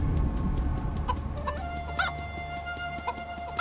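Chickens cluck and squawk in the video game Mini Ninjas, several short clucks and calls over a steady low game hum, with one louder squawk midway and fainter clucks after.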